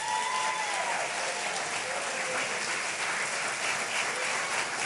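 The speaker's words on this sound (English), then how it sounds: "So let's give them a round of applause." A graduation audience applauds two award-winning students at the East Hartford Synergy ceremony, an even, continuous wash of many hands clapping at steady loudness throughout.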